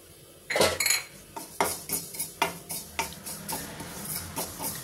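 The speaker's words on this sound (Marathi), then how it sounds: "तर आता याच्यात सर्वप्रथम मी खसखस भाजून घेणार आहे" Poppy seeds dry-roasting in a heavy-bottomed wok, stirred with a utensil that scrapes and clinks against the metal in a steady run of sharp, close taps over a faint sizzle.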